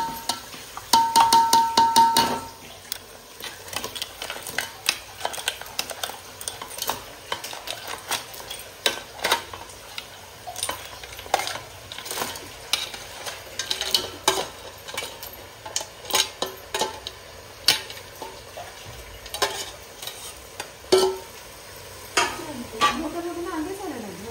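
Crab masala frying in a kadhai while being stirred, with repeated scraping and clinking of a spoon against the pan over a low sizzle, with someone talking at times.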